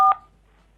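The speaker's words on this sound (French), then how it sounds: "N'appuyez pas sur les touches" A single short telephone keypad tone is pressed by a caller on a phone line during a TV game show call-in, loud and clear, then cut off into near silence.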